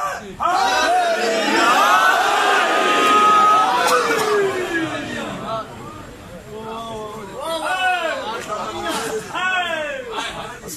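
Large crowd at a Shia religious gathering on the eve of the Kufa mosque martyrdom commemoration shouting slogans in loud collective bursts, rising together and then repeating in waves of many voices.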